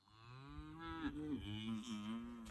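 A farmer imitates a cow, giving a low, drawn-out moo to call grass-fed cattle, a close, steady voice that bends slightly in pitch for a couple of seconds.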